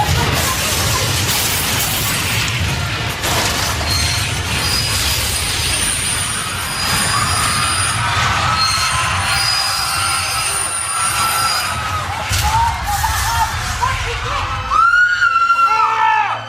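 A speeding train roars continuously, loud and steady for the whole stretch, with a dense rumble and rattling, and sharp squeals and clanks near the end, with no talk.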